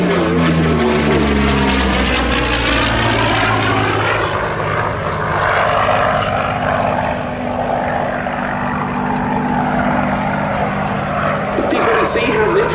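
A 1941 Curtiss P-40C Warhawk fighter, registration G-CIIO, flies past at the Duxford Battle of Britain Airshow. Its propeller engine gives a loud, sustained roar whose pitch sweeps down with the pass, and a voice speaks over it.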